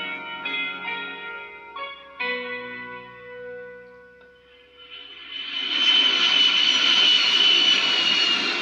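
An airplane engine in a film scene rises out of tonal music into a loud, sustained jet roar with a whining high edge, building over the last few seconds.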